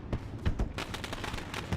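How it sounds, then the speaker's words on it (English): Fireworks go off on the backstretch at Knoxville Raceway during a dirt-track UMP Modifieds race, giving a short burst of several booming pops and crackles at a distance. "they've got the backstretch fireworks still going on"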